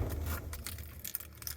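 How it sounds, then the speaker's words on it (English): Keys jangle close by as a key is pulled from the ignition of a 2019 Hino 258 truck, a short metallic rattle over faint vehicle hum. "If I were to take the key out,"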